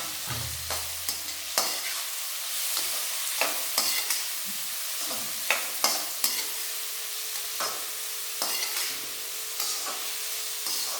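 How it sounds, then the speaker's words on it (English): Carrot, chili, ginger and greens saute in ghee and oil in a pan for upma. The food sizzles steadily throughout while a spoon stirs it with repeated scraping and clinking taps, and no one speaks. "So just lightly saute it in the ghee and oil, and let it not become too overcooked by frying."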